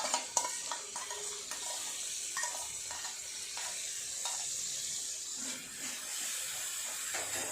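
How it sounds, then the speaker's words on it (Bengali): Beaten sour yogurt gets stirred into a frying spiced curry in a small home kitchen, with continuous sizzling and repeated spoon scrapes and knocks against the pot. "টক দইটা দিয়ে ভালো করে একটু নেড়ে নেব"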